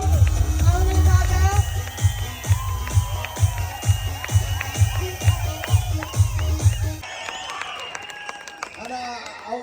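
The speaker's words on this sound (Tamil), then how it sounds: "ஒரு கரகோஷம் அவங்களுக்காக" At a Pongal celebration, a crowd claps in a strong steady rhythm with cheering and voices over it, loud and close, before the beat drops away and mixed chatter continues.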